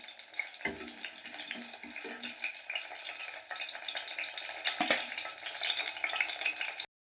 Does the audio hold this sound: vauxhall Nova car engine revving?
no